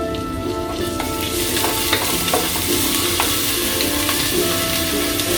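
Ginger, garlic and cardamom powder frying in a pan on low heat for nonbuhu kanji, a steady close sizzle broken by occasional stirring scrapes, with no talking.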